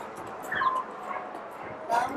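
A dog following a cyclist on a street in Broadstairs whimpers and yips in short, high bursts, with a louder bark near the end, under steady outdoor background and talk.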